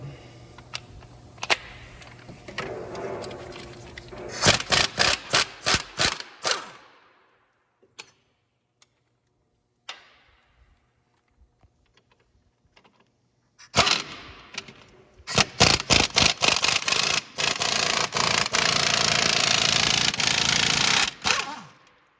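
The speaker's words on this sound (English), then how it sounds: "take those 22 millimeter nut and bolts out" An impact wrench rattles off 22 mm nuts and bolts on a 2012 Toyota Matrix during front wheel bearing work, loud close bursts of hammering, then a quiet gap with faint clicks before longer sustained bursts.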